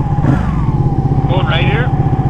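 A motorcycle engine revs up on the road during a ride, a steady low drone with a rising whine, heard close and fairly loud.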